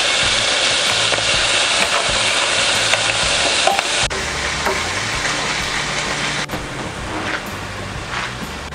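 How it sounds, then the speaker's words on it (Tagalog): Beef liver frying in a pan, a loud close continuous sizzle with occasional stirring scrapes, the crackle easing slightly partway through but never stopping. "Hintayin lang po natin na medyo maluto po yung atay ng baka."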